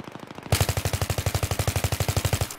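Rapid automatic gunfire in Battlefield 3, a loud, close burst of about twenty evenly spaced shots firing alone for two seconds before cutting off.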